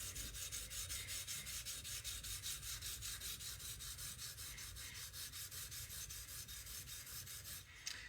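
A blade bevel is ground on a coarse sharpening stone with continuous, rhythmic scraping strokes, loud and close, with no pause for about eight seconds.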